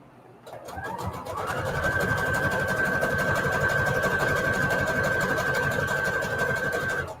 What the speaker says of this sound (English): let's do the zigzag stitch here first